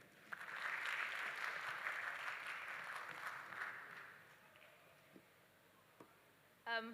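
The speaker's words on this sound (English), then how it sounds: "Round of applause, please." Faint, distant applause from a conference hall audience swells for a few seconds and then fades, followed by quiet room noise with a couple of small taps near the end.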